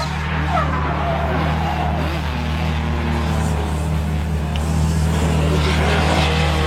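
A race car engine roars steadily and loudly close by at the Croix-en-Ternois circuit, with a hint of tire squeal as it pulls away, losing some traction.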